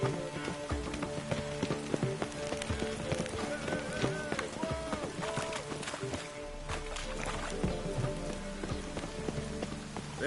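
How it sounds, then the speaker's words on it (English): Steady rain falls in The Witcher 3, a dense constant patter that lasts throughout, with tonal game sounds layered over it. "Rain again."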